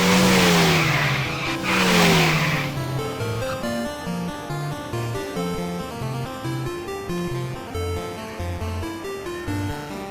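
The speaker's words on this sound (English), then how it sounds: "Racing game." An arcade racing game car engine revs loudly and sweeps upward for a few seconds, then electronic arcade music with steady beeping notes takes over; no one talks.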